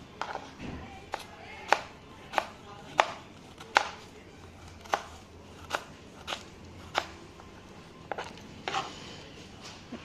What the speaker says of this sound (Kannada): ಇವಾಗ ಆನಿಯನ್ ಕಟ್ ಮಾಡೋಣ. ಇದು ಉದ್ದುದ್ಗೆ ಕಟ್ ಮಾಡ್ಕೊಳ್ಳಿ.